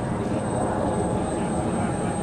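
A Goblin RC helicopter makes a high-speed pass at around 140 miles an hour, giving a steady, loud, broadband rotor and motor roar that holds constant without pause.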